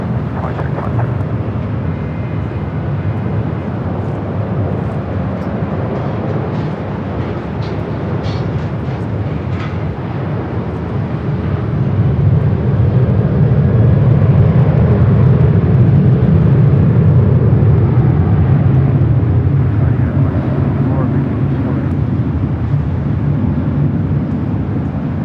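A Southwest airliner takes off from LAX runway 24 left, heard as a loud, steady jet roar that swells and deepens partway through and continues, with no voices.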